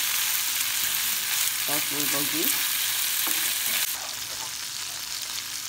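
Tofu fries in a pan for bulgogi, giving a steady, close sizzle that runs throughout. A brief spoken phrase sits over the frying.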